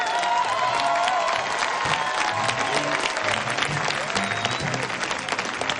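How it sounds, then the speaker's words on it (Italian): Crowd ovation for a town mayor, with sustained dense applause and scattered cheers and shouts, steady and loud throughout, while voices are heard under it. "Ha visto che ovazione?"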